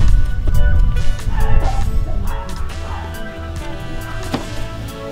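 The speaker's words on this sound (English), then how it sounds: "Listen to the dogs bark while we're doing it." Dogs barking in a kitchen while quesadillas are cooked, a few loud close yips and barks over a steady background hum, with no talking.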